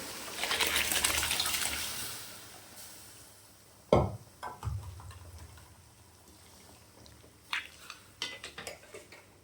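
Country chicken pieces go into a pot of coconut milk curry. A sharp clatter and splash comes near the middle, followed by scattered metallic clinks and stirring knocks over a soft sizzling bed, all close and without talk.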